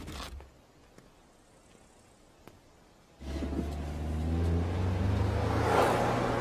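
A car engine with a freshly rebuilt motor rumbles low and steady, then surges louder as it revs up and holds at a higher pitch.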